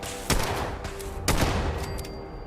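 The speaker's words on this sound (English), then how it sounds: "I'm awful at shooting. Just take the shots and..." Gunfire in the video game Fallout: two sharp, loud shots about a second apart, each with a ringing tail over a noisy game background.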